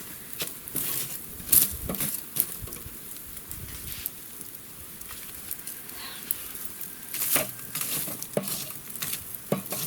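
Burger mince patties sear on a charcoal mangal grill at a country house, giving a steady close sizzle and crackle with scattered louder spits and pops, no voices present.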